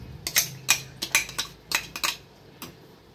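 A spoon stirs aviyal in a pot, mixing vegetables with a cup of curd and crushed coconut and cumin, giving about a dozen sharp metallic clinks and scrapes in an uneven rhythm with no talking.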